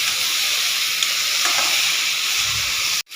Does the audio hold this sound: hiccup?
no